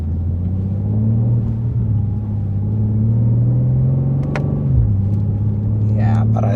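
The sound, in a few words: BMW M2 S58 straight-six engine rumbling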